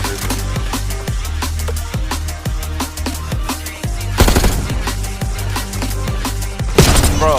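Rapid bursts of shotgun fire in a mobile video game played on a RedMagic 10 Pro Ultra phone, with repeated sharp shots and a couple of heavier blasts near the end.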